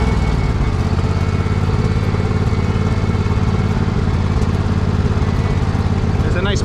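A Poulan riding mower engine runs steadily and loudly close by, its low even drone continuing throughout during a muddy mowing outing.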